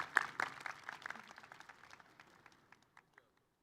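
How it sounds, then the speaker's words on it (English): Applause at the Community College of Aurora commencement ceremony starts as a brief burst of clapping, then thins into scattered claps that fade away over a few seconds. "Please join me in a round of applause"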